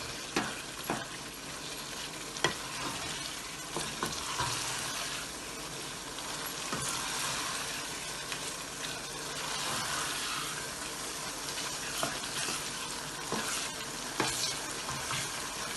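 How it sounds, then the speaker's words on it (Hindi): Keema for qeema kachnaar fries and is stirred in a pan after simmering on medium heat, giving a steady, close sizzle with frequent scraping and clinking of the spoon against the pan throughout, no talking. "अब हम इसको भूनेंगे। तकरीबन ये रेडी है, बस भून के कचनार डालेंगे इसमें।"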